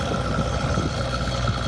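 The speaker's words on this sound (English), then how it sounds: "That sound you're hearing is diesel-powered pumps running at the master pump station" Diesel-powered pumps running at a master pump station on Andalusia Boulevard, a steady dense engine drone with low rumble, continuous and fairly loud, with no talking.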